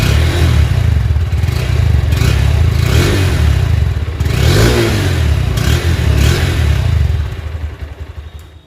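A Honda street motorcycle's exhaust roars loud and close as the engine is revved repeatedly in swelling bursts, then the sound tapers off near the end.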